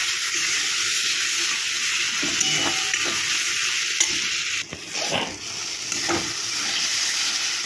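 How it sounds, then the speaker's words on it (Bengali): Spice paste being sautéed in a pan with splashes of water for a boal fish curry, a loud continuous hiss with stirring scrapes and brief dips where the sizzle briefly falters. "একটু জল দিয়ে দিয়ে একটু মশলাটা কষাতে হবে"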